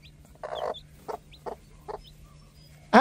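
A hen clucks in a farmyard, several short, close clucks spaced unevenly, with a few faint chirps of chicks and a louder squawk bursting in at the very end.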